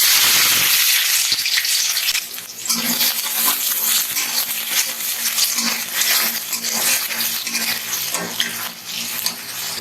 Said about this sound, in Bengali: তেল গরম হয়ে গেছে এবার দিচ্ছি পেঁয়াজ কুচি